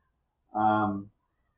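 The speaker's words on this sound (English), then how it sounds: "sorry, I hear the cat in the background." A single clear cat meow, close and fairly loud, about half a second long with a slightly falling tone, in an otherwise quiet room.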